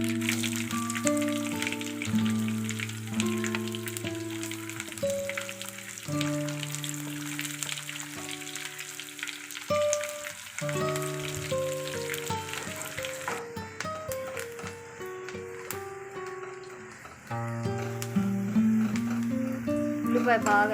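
Sliced onions frying in a pan for gongura dal give a steady, soft sizzle that runs beneath melodic background music throughout.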